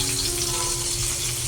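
Oil sizzles steadily in a pan after potatoes and cauliflower have been fried, a continuous close hiss with no talk.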